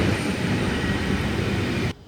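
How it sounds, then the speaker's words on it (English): A freight train led by locomotive CF4402 passes along the freight corridor beside a station platform at Canterbury, a loud, steady rumbling roar that cuts off abruptly near the end. "At Canterbury, we have one number 4190 leading loco is CF4402, passing the freight corridor adjacent to platform number 1."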